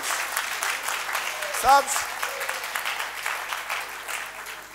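A church congregation applauds in a steady, dense wash of clapping that carries through the room, with a brief spoken word and a short vocal cry rising over it.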